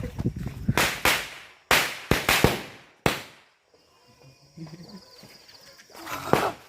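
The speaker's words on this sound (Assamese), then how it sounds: "আকৌ এটা বিড়ি ফটকা এটা মাৰি দাও" A series of sharp bidi firecracker bangs bursting in quick succession at Diwali, then a lull of faint outdoor noise before one more loud crack.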